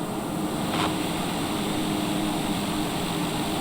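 A Daher TBM 930 turboprop on landing approach makes a steady, loud, broadband engine and propeller drone heard from inside the aircraft, unbroken and with no talk.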